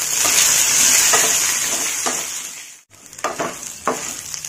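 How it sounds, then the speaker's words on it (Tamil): Ginger and garlic sautéing in a pan with dried red chillies for a Chettinad egg curry, a steady loud sizzle with a few scraping stirs, a brief break, then more stirring strokes. "இஞ்சி பூண்டு எல்லாம் நல்லா அங்க வதங்கிருச்சு."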